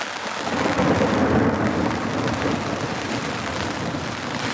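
Heavy rain pounds on a tent at a campsite on the Isle of Skye, a dense continuous roar of drops with low rumbling thunder swelling underneath, loud and close throughout.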